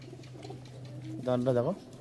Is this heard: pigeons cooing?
yes